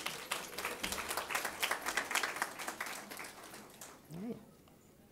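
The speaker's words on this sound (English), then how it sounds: "can we give that an applause?" Audience at a Hillsborough County Head Start celebration applauds with dense, steady clapping that fades out over a few seconds, followed by a brief voice.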